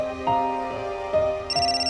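A telephone ringtone in a Hindi TV drama plays as a repeating electronic melody of bright tonal beeps, close and clear, with no talking over it.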